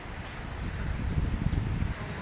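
Strong wind blows steadily across an open hilltop, a loud continuous rumbling gust noise buffeting close by with no other sounds.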